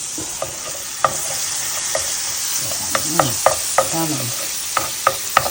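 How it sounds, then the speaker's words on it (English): Garlic sizzles in a pan with a steady frying hiss for Tuscan chicken, broken by repeated scraping clicks of stirring. A short word is spoken once over the cooking. "I love the smell of garlic cooking."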